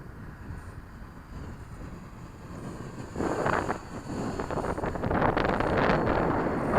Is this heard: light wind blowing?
yes